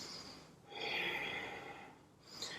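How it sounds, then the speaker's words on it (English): A slow, deep breath during a yoga triangle pose, a soft airy inhale swelling and easing over about two seconds, faint and close, with another breath beginning at the end. "Couple of deep breaths here."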